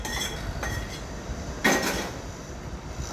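Spices being tossed through puffed rice for sev mamra in a bowl, a few soft scraping and clinking strokes of a spoon against the bowl with one sharper clatter midway, close and fairly quiet, no speech.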